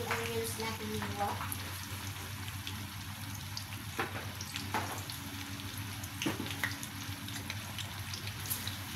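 A large batch of sliced onions, about two kilos, fries in a pan until golden brown for chicken musakkan, giving a steady, close sizzle with faint stirring scrapes throughout.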